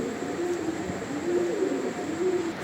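Black-laced satin pigeons coo in repeated low, rolling calls over a steady background hum, close by and without talk.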